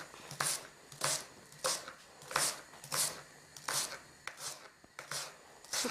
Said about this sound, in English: Okay, leeks are chopped.